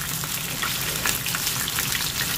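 Chicken thigh sears in a frying pan with a steady, dense sizzle and crackle, close and even throughout.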